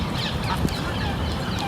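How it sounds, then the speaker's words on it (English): Geese and goslings on open water in a London park, with faint, scattered honks and calls over a steady outdoor wash of wind and distant noise. "some geese out on the water"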